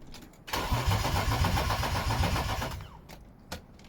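A BMW E36 Coupe fitted with a 2.8 engine cranks on the starter without firing, a rapid rhythmic churn lasting about two seconds, then stopping, followed by a faint click.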